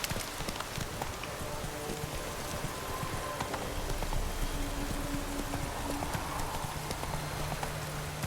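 Horse hooves clip-clop steadily in The Witcher 3 video game, a continuous rhythmic trot over a dense background of ambient noise like light rain.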